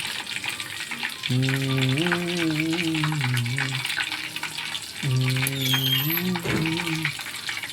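Bajji fritters frying in hot oil give a steady, close sizzle that runs through the whole stretch, with someone talking over it.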